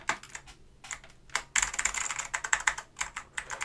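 Keys on a vintage keyboard under restoration clack close up in irregular bursts of quick presses, with short pauses between runs.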